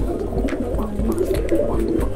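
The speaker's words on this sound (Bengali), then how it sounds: "আজকে আপনাদের সামনে কালদম কবুতর নিয়ে হাজির হলাম।" Kaldom pigeons cooing in soft, low, repeated murmurs, close and moderately loud, with faint rustling in the background and no speech.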